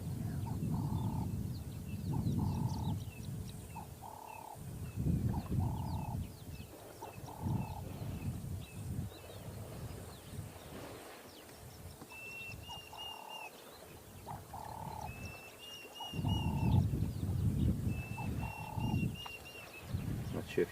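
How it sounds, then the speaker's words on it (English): A Diederik cuckoo calls from one side outdoors, repeating short, rising whistled notes at intervals over a constant background of croaking frogs and other birds, with people talking at times. "if you guys can hear the Diedrich's cuckoo calling here to our left"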